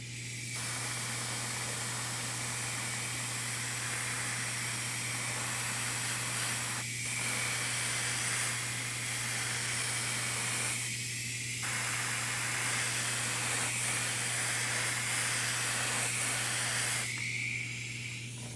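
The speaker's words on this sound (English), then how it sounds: "As long as I don't move it while I'm spraying," An aerosol spray can hisses steadily while paint is sprayed onto a quarter-scale Aquaman figure, long continuous bursts broken by a few short pauses, with a constant low hum underneath.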